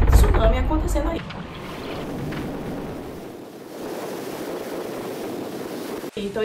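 Rough sea water surges and rushes during a tsunami, a broad continuous roar buffeted by wind noise, with a voice speaking near the start.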